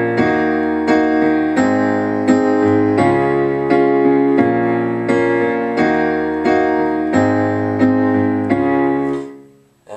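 A piano plays the repeating chord progression of a song, steady sustained chords struck about every second and ringing together, close and full, before fading out at the end.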